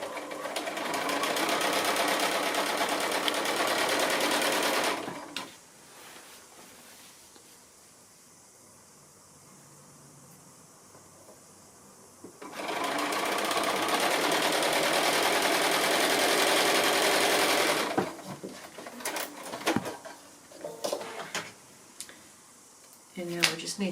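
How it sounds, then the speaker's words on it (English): Domestic sewing machine stitching quilt block seams into pairs, running in two long steady bursts separated by a quiet pause, with light handling clicks and taps of fabric toward the end. "I'm going to sew the seams on here now, just to make them into 2 pairs at the moment"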